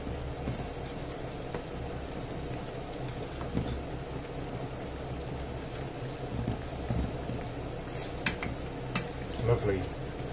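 Chickpea meatballs being stirred and moved about in tomato sauce in a pan, a steady close sizzle with scraping and small bursts of stirring throughout, no talk.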